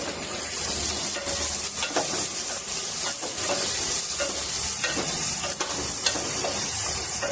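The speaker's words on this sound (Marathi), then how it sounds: "वांगी चांगली परतून घ्यायची आपल्याला तेलामध्ये" Brinjal (eggplant) pieces stirred and sautéed in oil in a pan, a steady loud sizzle with repeated scraping stirs throughout, no talking.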